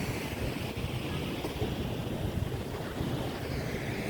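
A strong river flows near a white sand beach at Bolinao, with the sea about fifty meters away, a constant broad rushing roar of water blended with wind buffeting the microphone.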